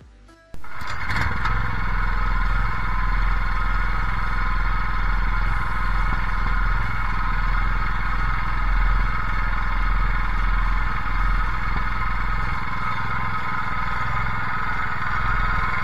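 A walk-behind reversible rotary tiller with a new engine runs while tilling soil, a loud, steady engine drone that kicks in after a brief opening sound and holds unbroken for the rest of the stretch.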